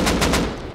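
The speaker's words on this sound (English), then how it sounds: "Let's shoot the fucking turrets" A short burst of rapid automatic gunfire in the video game Rust aimed at turrets, three quick loud shots fading into a brief echo.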